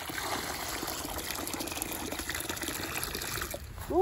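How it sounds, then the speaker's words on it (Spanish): Water pours steadily into a bucket with a constant splashing rush that swells slightly at the end. "primero está a llenarle el balde a estas niñas"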